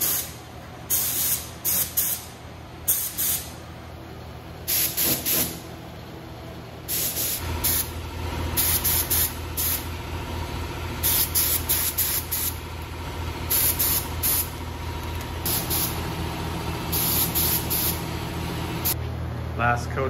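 A paint spray gun hisses in repeated bursts while laying a base coat on a 1975 International Scout II in a shop, loud and close, with people talking between passes.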